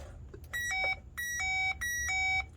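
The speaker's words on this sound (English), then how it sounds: "I know it's a turn signal because it's flashing. It's beeping." Electronic beeps from a trailer's turn signal flasher repeat in three even bursts, each a rapid run of short tones, steady and moderately close with quiet between.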